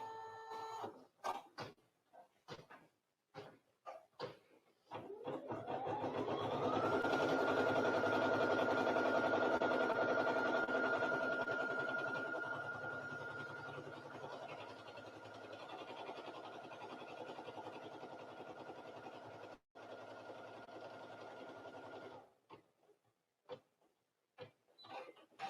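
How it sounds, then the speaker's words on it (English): A sewing machine at a quilt festival starts up and hums at a steady whirring pitch for about fifteen seconds, ramping up at the start and slowing to a stop, with brief clicks and handling noises before and after. "Let's begin stitching. I'll lower the presser foot and then press the start button."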